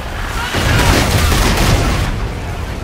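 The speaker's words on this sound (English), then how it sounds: "AA fire stitching us up." Heavy anti-aircraft fire in Call of Duty: Infinite Warfare, a loud, close barrage of overlapping blasts and rumbling booms that swells and churns continuously for a few seconds.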